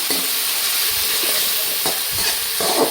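Frying mixture stirred in a pan with turmeric and salt added, a steady sizzle throughout with scraping stir strokes recurring every half second or so, no talk.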